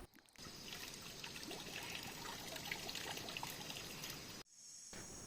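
Water trickling in a small mountain stream high in cool, misty mountains, a steady close bubbling and splashing flow that cuts off abruptly near the end before resuming briefly.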